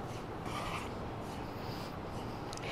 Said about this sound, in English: While you are stirring this, make sure you break the lumps of this besan as well.